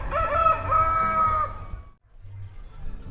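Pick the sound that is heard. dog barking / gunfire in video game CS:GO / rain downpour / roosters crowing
roosters crowing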